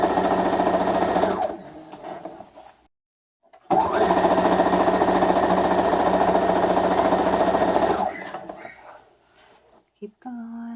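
Sewing machine stitching binding strips onto a fabric face mask, running in two long steady bursts with a brief pause between, then slowing and stopping.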